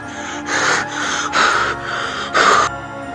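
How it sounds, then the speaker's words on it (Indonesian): Mysterious breathing heard on a night mountain hike, given as loud, close breaths with three stronger heaving gasps in an uneven rhythm over a steady low rumble. "terkagetkan dengan suara napas yang jelas terdengar di telinga"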